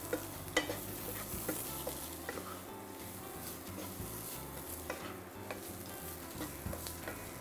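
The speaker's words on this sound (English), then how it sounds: "And just give it a stir. Allow the potatoes to get coated with the masala for another couple of minutes." Potatoes roasting in masala sizzle steadily in a pan while a spoon stirs them, with faint scraping taps over a constant close frying hiss.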